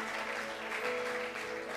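A church congregation at a sermon applauds together, a dense, even wash of clapping heard from a short distance for a moment.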